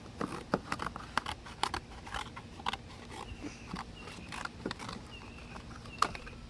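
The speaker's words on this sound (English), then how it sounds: "I think we need our scissors for this one" Scissors snip at a slime package in a series of sharp, close clicks and cuts, irregularly spaced with small rustles and handling noises between them.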